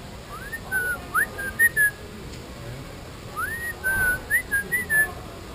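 A brightly colored orange, blue and red bird at a Waikiki hotel gives clear whistled calls in two short bursts of rising and falling notes, close and moderately loud against faint background hiss.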